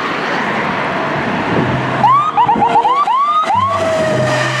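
A toy ambulance car sounds a warbling electronic siren that rises and falls in quick repeated sweeps for about two seconds. The siren cuts off over a steady background hiss.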